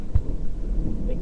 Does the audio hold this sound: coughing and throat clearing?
no